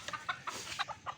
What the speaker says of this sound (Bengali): এই যে দেখুন মোরগ ডাকছে মুরগিদেরকে